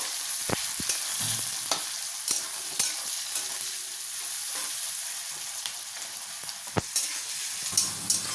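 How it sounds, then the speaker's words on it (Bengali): Three chopped onions fry in oil in a pan, with a steady sizzle broken by repeated sharp clacks and scrapes of a stirring spoon, close up and with no speech. "পেঁয়াজটা আমরা এবার লাল লাল করে ভেজে নেব"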